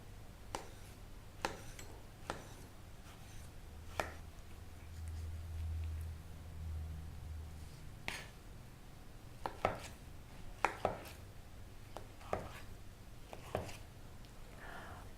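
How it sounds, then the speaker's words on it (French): A knife dices pitted mango into even cubes on a board, giving sharp, irregularly spaced chops, some in quick pairs, over a quiet background with no talking. "on la coupe maintenant en dés réguliers"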